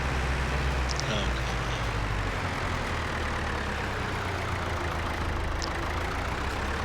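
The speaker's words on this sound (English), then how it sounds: "this tractor does not like hills, pulling up these hills with this" An old 1960s farm tractor labors uphill, its low engine drone loud and steady throughout, with a brief higher clatter now and then over the rumble.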